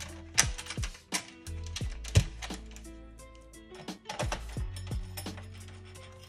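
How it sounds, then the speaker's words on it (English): Heatsink screws on a PS3 Slim console are driven in and tightened by hand, giving close, irregular clicking and ratcheting taps with short pauses between turns, and no talk. "Now we're gonna install the screws for the heatsink."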